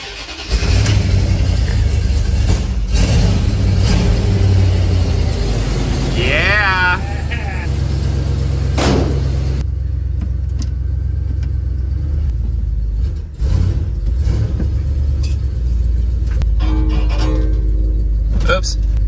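A Ward LaFrance fire engine cranks from cold, catches and settles into a steady, rumbling idle, loud and close, with people talking over it at times.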